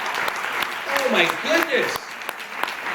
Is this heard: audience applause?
yes